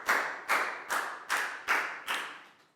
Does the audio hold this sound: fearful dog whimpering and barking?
no